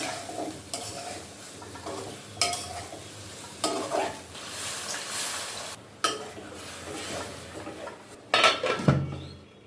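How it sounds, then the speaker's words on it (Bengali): Cauliflower and potato pieces are stir-fried in a pan for a Bengali fish curry, with a soft steady sizzle broken by repeated scrapes and clanks of a spatula against the metal pan, one sharp clatter near the end. "ফুলকপি আলু ভালোভাবে কিছুক্ষণ কষিয়ে নেব"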